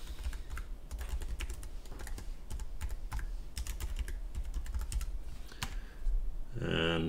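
Login credentials being typed on a computer keyboard: a quick, steady stream of close key clicks over a low background hum, ending with a brief electronic tone.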